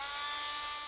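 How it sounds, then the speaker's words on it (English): Small high-speed drill boring holes into a hydraulic brake lever body, a steady whining buzz with a constant pitch, close and continuous for the whole moment without any voices. "stick it inside the lever body and drill 2 holes for the ports"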